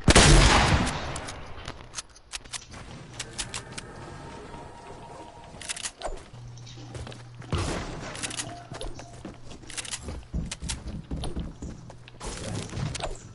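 Gunshots from a shooter video game with shotguns fire in bursts and single cracks across the span, loud and close, mixed with clicks and thuds over a low steady game hum.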